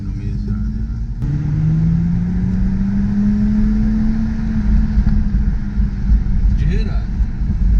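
A BMW car idles and drives with a steady low engine drone at a car show, then a brief burst of sharp exhaust pops near the end, with faint voices in the background.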